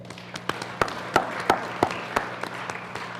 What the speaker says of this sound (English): Members, please join me in a round of applause.